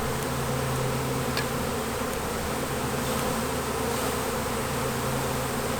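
A dense, steady buzzing of a bee swarm fills the air continuously, loud and close, with no voices.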